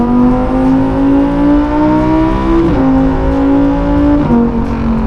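Lamborghini Huracán STO engine revving hard while driving, a loud close rising howl that climbs through gears with two brief dips at shifts.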